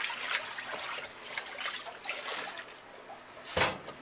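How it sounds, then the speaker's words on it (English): A paddle works warm mozzarella curd in liquid at a deli, making wet sloshing, squelching and trickling sounds in irregular bursts, with one louder splash near the end. "now I'm working the paddle so I can get it into a smooth taffy texture"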